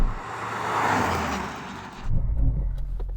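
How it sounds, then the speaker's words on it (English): A Honda Civic Type R Limited Edition makes a hard emergency stop from 70 mph: broad road and engine roar with tyre noise fades out, then a sudden low rumble and thump follow as the car halts abruptly. "I'm going to do an emergency stop for 70 miles an hour."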